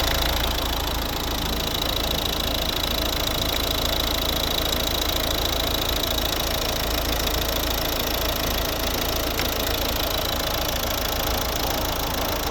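A 2012 Volvo V50's 1.6-litre four-cylinder turbo diesel engine idles steadily and close by, with a constant low rumble and slight knocking rattle throughout.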